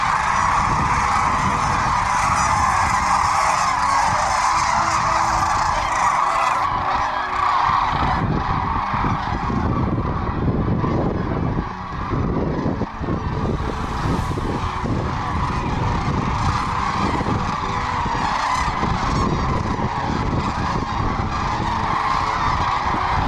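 Big flocks of geese honk and clamor nonstop at a small golf course around midday, a dense, loud, overlapping chorus of calls that carries on through the whole stretch.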